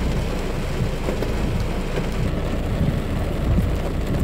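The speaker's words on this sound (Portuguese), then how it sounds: "Agora sim, chuva bem forte." Heavy rain pours down in Porto Alegre's Bom Jesus neighbourhood in an early-morning cold-front storm, a dense, steady roar of rainfall on surfaces, loud and unbroken throughout.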